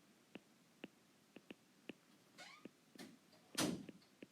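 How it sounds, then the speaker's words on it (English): A door is shut indoors, a dull faint thump near the end, preceded by soft scattered clicks and rustles in a quiet room. "my daughter shut the door"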